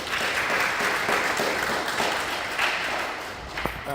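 An audience at a tech meetup in Toronto claps in a sustained burst of applause, fairly loud and even throughout, with a faint voice near the end.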